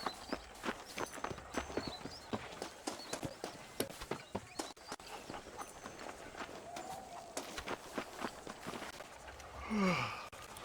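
Horse hooves in Red Dead Redemption clop in a quick, regular rhythm during a ride, close and clear, followed by a horse's snort near the end.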